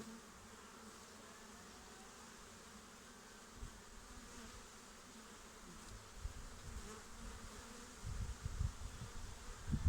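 Honey bees buzz around an opened hive during a colony inspection, a faint, continuous swarm drone with occasional handling bumps and rustles growing louder toward the end.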